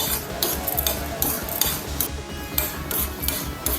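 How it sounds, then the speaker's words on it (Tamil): Urad dal and black peppercorns are dry-roasted in a pan, making a steady scraping, rustling stir with gritty rasps as the spoon drags the dry grains around. No voices. "இந்த உளுத்தம்பருப்பு இருக்கு இல்லையா, அதை போட்டுக்கலாம். கொஞ்சம் மிளகு போட்டுக்கலாம். நல்லா வறுக்கணும்."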